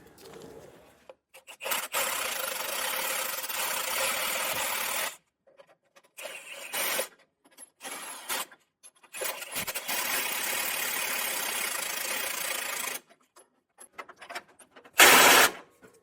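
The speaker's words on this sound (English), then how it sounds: "we are going to torque this down as well" A power tool runs in several long loud bursts separated by pauses, driving down bolts on a Roadmaster rear anti-sway bar on a 2022 Ford F-53, heard close with occasional short clicks between runs.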